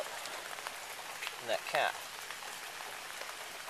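Rain pours from a gutter down a tube into a rainwater collection barrel with a cap, giving a steady broadband wash of falling water, while a person speaks briefly over it at close range.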